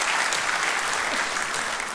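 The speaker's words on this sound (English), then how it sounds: "that is why I think you deserve a round of applause" Loud, dense applause from an audience at a Reform party political rally on the Isle of Wight, steady clapping filling the room without any speech.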